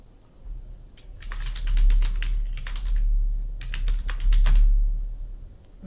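Rapid keystrokes on a computer keyboard while a document name is entered, coming in two dense bursts of clicking with a short pause between, close and fairly loud over a low background hum.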